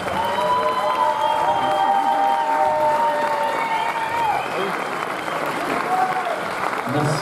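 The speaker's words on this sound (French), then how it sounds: "Applaudissez-le bien fort" A festival audience applauds film director Olivier Afonso, a continuous roomful of clapping with a few cheers, while sustained tonal music or whistling tones float above it for the first few seconds.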